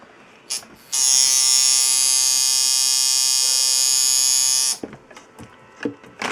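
A coil tattoo machine fitted with shorty coils runs at 6.4 volts and about 133 hertz, a steady loud electric buzz lasting almost four seconds alone before cutting off, with faint handling noises after.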